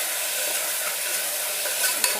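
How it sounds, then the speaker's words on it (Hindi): Chopped tomato fries in hot oil for methi pulao, a steady bright sizzle with a spoon scraping and stirring through the pan, close and continuous, with no voices. "रॉ स्मेल जाने तक इसको फ्राई करना है आपको।"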